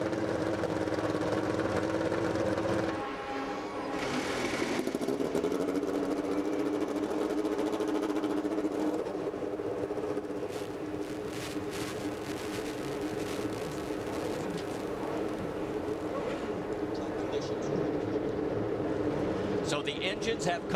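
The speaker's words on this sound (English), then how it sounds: "So the engines have come to life here" IndyCar race car engines on the grid at Chicagoland Speedway fire up and settle into a loud, steady droning idle, with a rising rev early on and commentary heard over the sustained engine note.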